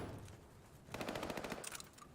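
Rapid automatic gunfire from a video game esports match, a quiet stretch followed by a dense burst of repeated shots lasting about a second, with a sharp crack near the end.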